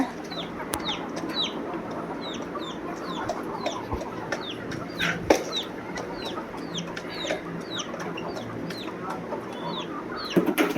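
A flock of chickens clucks and chirps continuously nearby while feeding on sprouted millet and sorghum, with occasional sharper peeps and soft scratching sounds in the background.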